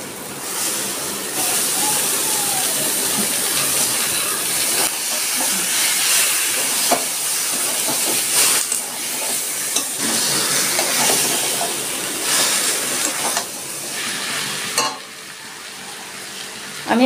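Chicken pieces go into a pan of fried, well-cooked spice paste for a mango chicken curry, giving a loud, steady sizzle and hiss with some stirring scrapes that carry through to a brief drop near the end.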